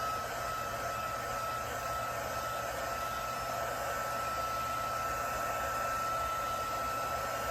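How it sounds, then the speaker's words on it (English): Hot air blower runs continuously over alcohol ink on a tumbler, a steady, even whoosh of airflow heard up close and alone at moderate volume. "So I'm just going to heat it up a little bit more."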